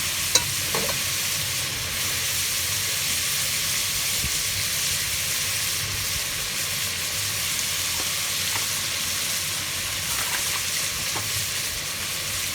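Mutton karahi with karahi masala sizzles steadily in a pan, giving a continuous, even frying hiss with soft stirring scrapes throughout and no voices.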